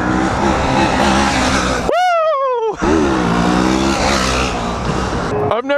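Touring motorcycle revving hard during a wheelie stunt, a loud engine roar that climbs steeply in pitch, cuts off, then picks up again, close by, with a brief voice over it.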